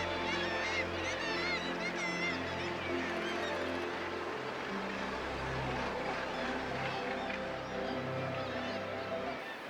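Dense, continuous calling of a seabird colony of gannets on the sea cliffs at Bempton Cliffs on the Flamborough coastline, many overlapping harsh cries layered with wind, steady and loud throughout.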